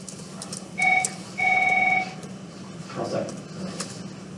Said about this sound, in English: we got a telephone ringing here